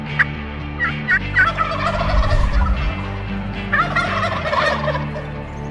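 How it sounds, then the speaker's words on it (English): Wild turkeys in Colorado gobbling: several rapid, bubbling gobble calls at moderate distance, one early burst and another a few seconds later, over a steady outdoor background rumble with no voices. "Colorado's wild turkeys"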